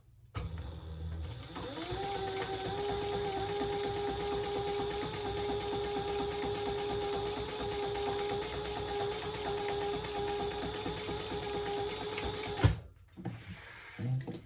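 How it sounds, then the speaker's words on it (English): A sewing machine topstitches the top edge of a crossbody bag, a close, even mechanical whir that holds for about eleven seconds, then halts with a sharp clack and a short rustle. "let's top stitch the top part of this only for now"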